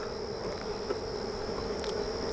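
A honey bee swarm buzzes outside a hive box, a steady dense drone of many wings with a few individual bees passing closer, moderately quiet and continuous.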